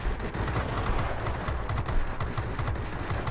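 Rapid aircraft cannon and machine-gun fire from a F5F Skyrocket fighter in the World of Warplanes game, a steady rattling burst of closely spaced shots running continuously at even loudness over a low engine drone, with no voices.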